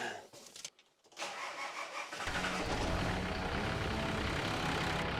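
A 4x4 engine cranks briefly, catches and fires up on its first start after a cooling system repair, then settles into a steady, loud idle close by.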